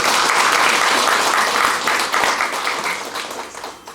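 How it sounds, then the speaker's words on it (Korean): Audience applause opening a peace unification forum lecture and appointment ceremony, a full room clapping loudly at first and then gradually thinning and fading out. "여러분의 큰 박수로 시작하도록 하겠습니다"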